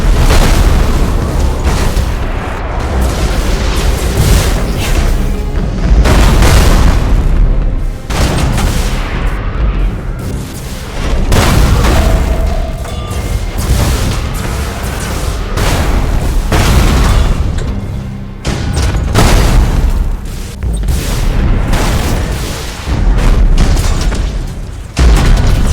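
A Thunderhawk bombardment in the space warfare game Battlefleet Gothic Armada 2 fires a long barrage of loud, deep booming explosions, one after another with short gaps, rumbling heavily throughout.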